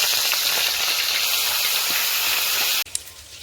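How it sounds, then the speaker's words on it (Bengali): Loud, steady hissing sizzle of fish frying in hot oil in a kadai, continuous for a few seconds before cutting off abruptly into quieter background. "আমি তো মাছ ভাজাটা বসিয়ে দিয়েছি"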